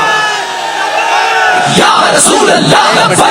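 A large rally crowd in Jhang roars slogans back at a religious speaker, a swell of massed voices rising halfway through into loud, rhythmic chanting and yelling.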